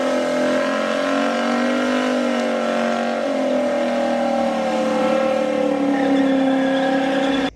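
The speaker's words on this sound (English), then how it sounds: "The LSS powered 1970 Chevy Chevelle SS454" A powerful V8 engine of a 1970 Chevrolet Chevelle SS454 runs loud and steady throughout, with a deep throaty rumble and slight shifts in pitch as it revs, no voices.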